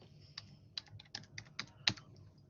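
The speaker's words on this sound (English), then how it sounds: "My keyboard is a Bluetooth and sometimes it does type 2 times instead of one." Light taps on a Bluetooth computer keyboard come in an uneven run of about eight soft keystrokes, quiet and close, with no talking.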